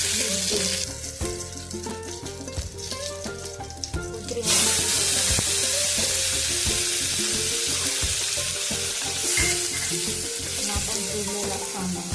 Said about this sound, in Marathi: आपला कांदा हे जे आपण जे मसाला केलाय सगळं ते परतून घेऊया